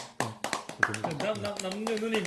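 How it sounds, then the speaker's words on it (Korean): A small group in Korea claps in a few sharp, close bursts, with talking voices in between and over the claps. "박수. 예, 박수."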